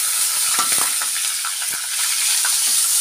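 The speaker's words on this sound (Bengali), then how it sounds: "একটু ভাজবো, এই তেলটার মধ্যে একটু ভালো করে ভাজবো।" Soaked Gobindobhog rice frying in oil with dry red chillies and whole spices, a loud continuous sizzle with scattered stirring scrapes, close and without talk.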